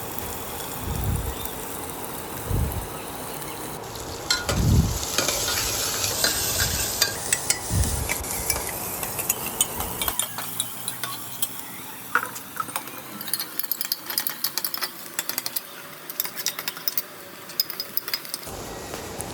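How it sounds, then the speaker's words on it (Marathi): Garlic cloves, curry leaves, half an onion and coriander sauté in a pan for misal, a continuous sizzle and hiss with repeated stirring scrapes and clinks from a spoon, close and steady. "त्यात 2 ते 3 लसणाच्या पाकळ्या, 3 ते 4 कढीपत्त्याची पाने व अर्धा कांदा आणि थोडीशी कोथिंबीर टाकून हे चांगले परतून घ्यायचं आहे"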